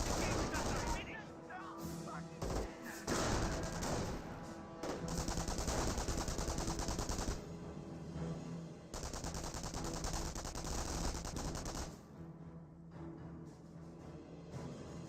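Dense, continuous gunfire from a Company of Heroes 1 WWII battle between MP40-armed Volks Grenadiers and US riflemen. Rapid automatic bursts and rifle shots overlap throughout, with a few brief lulls and a quieter stretch near the end.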